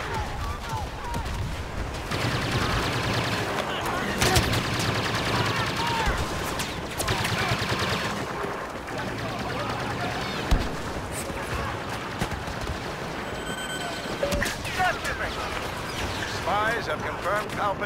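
Sniper and blaster fire in a Star Wars Battlefront Walker Assault battle on Jundland Wastes, with scattered shots and bursts, some sharp and close, under players chatting over the game throughout.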